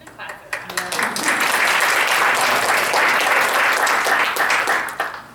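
A panel audience at a Broadway convention breaks into sustained applause, a dense wash of clapping swelling quickly and holding steady for several seconds before tapering, with scattered voices at the start.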